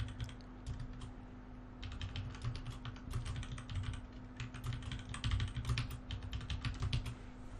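Steady typing on a computer keyboard while entering a password during a Windows Server 2019 setup, a close, fairly quiet run of rapid clicky keystrokes in bursts with brief pauses.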